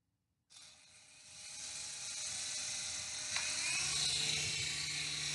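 A small radio-controlled helicopter spins up and flies, its high, buzzing motor and whirring rotor starting abruptly and holding a steady, fairly close drone with a faint low hum beneath.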